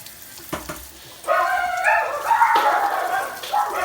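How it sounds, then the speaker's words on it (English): Wine poured into a hot pan, a sudden loud sizzle and bubbling hiss that starts after a quiet moment and carries on steadily to the end. "I'm going to put some wine in here, and we'll reduce that down"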